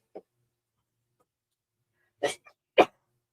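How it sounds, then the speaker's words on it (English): Two sharp sneezes in quick succession, close and fairly loud, after a brief faint sound and a pause of near silence. "Oh, I gotta sneeze, y'all. I gotta sneeze."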